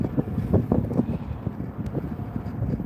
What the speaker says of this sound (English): it is windy and overcast and it's sprinkling right now